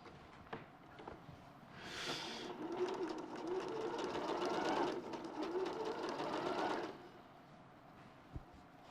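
Sewing machine stitching quilt fabric for a patchwork quilt, a close, steady buzzing whir lasting about five seconds, rising and fading at the ends, with a few faint clicks around it.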